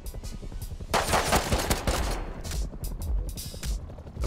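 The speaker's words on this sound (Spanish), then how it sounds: "¿Te dispara a ti?" Gunfire in the survival game Rust, with loud bursts of automatic shots and scattered single cracks that overlap and rattle on. A voice is heard faintly now and then beneath the shooting.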